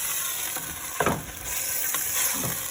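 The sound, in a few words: meat browning in a hot pan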